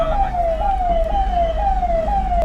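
A police car leading a convoy on the road from Srinagar to Pahalgam during the 2024 Amarnath Yatra pilgrimage sounds its siren in repeated rising yelps, loud and close over steady vehicle rumble.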